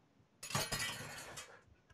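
A tall drinking glass clinks once with a bright, ringing clink, close and fairly quiet, then decays over about a second in a quiet room.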